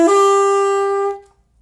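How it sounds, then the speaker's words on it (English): A single tenor saxophone phrase from a Coltrane-style minor lick in the Dorian mode, one bright sustained tone ringing for about a second before cutting off cleanly, alone and up close. "but now this is how it sounds on tenor sax"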